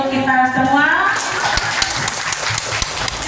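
Teachers clap together in a sustained burst of applause, with a voice speaking over the start before the clapping carries on steadily.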